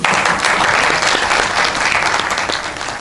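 Loud, dense applause from an audience at a talk, many hands clapping steadily together for a few seconds without a break.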